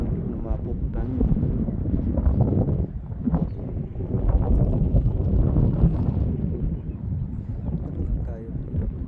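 Seaside wind buffets the microphone in low, rumbling gusts throughout while someone talks over it during an outdoor walk by the sea.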